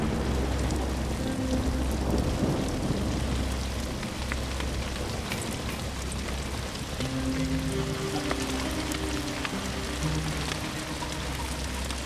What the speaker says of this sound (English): it's really coming down. That's huge chunks of hail. Thunder's cracking pretty good, lightning.